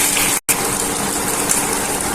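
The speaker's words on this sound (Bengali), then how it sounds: "দিয়ে দেবো অল্প একটু জল" A loud, close gush of water pours into a cooking pot with a soya dish, a steady rushing flow broken by one brief gap near the start.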